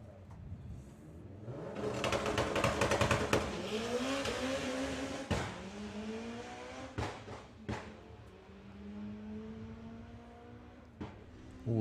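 Drag racing car at Santa Pod Raceway during Bug Jam 2022 launches with a loud roaring pass that fades into the distance, followed by a string of sharp popping bangs from the engine.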